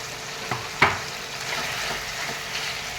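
Chicken is stirred in a pan with turmeric, coriander, cumin and chilli powder while it fries, giving a soft continuous sizzle broken by a few scraping clacks of the spoon, close by, with no talking.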